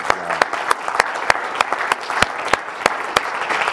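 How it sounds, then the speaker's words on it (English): A church congregation at a worship service claps in unison to a steady beat, loud sharp claps landing about three times a second over a continuous background of voices and crowd noise. "clap your hands real good right now"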